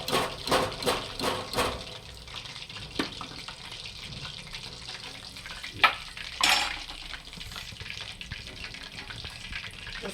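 Crispy chicken lollipops deep-fry in hot oil with a steady bubbling hiss; a few rhythmic scraping stirs open the sound, and another clatter comes later.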